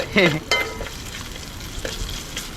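Onion and green chili fry in a pan in coconut oil, with a soft sizzle and a couple of sharp stirring scrapes at the start, close by and alone.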